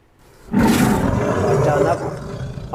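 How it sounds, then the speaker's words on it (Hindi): A lion roars once, loud and close, a long rough sustained bellow that starts abruptly and holds steady for about two seconds. "शेर की दहाड़ फिर सुनाई दी।"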